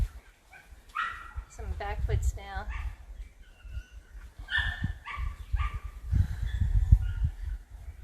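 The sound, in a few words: dogs barking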